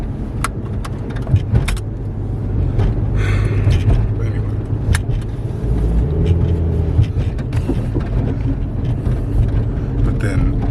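Cars drive past on a road, a steady near engine and tire rumble swelling and fading, with occasional clicks and rattles and someone talking over the traffic.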